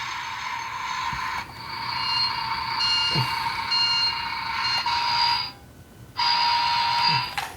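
Dickie Toys Mack Anthem toy transport truck sound effects: loud, steady electronic reversing beeps with an engine-like hum, repeating with short pauses between bursts, close up and without speech.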